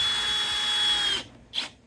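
Power drill driving a 1 1/4 inch screw into a half-inch-thick pressure treated fence picket, a steady high whine that cuts off, followed by one brief second burst, close and alone.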